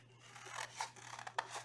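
Scissors snip through paper to cut out drawn Easter egg shapes, a few quiet close cuts in an uneven rhythm with sharp snips, heard alone without talking.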